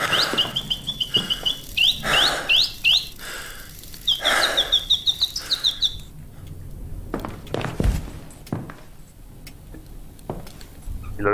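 A bird-chirping device in the video game Ad Infinitum sends out repeated rising electronic chirps in quick bursts, stopping partway, followed by scattered clicks, thuds and footsteps.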